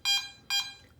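Two short electronic beeps from a Garrett AT Max metal detector during a coil air test, half a second apart, clear and fairly loud against quiet background.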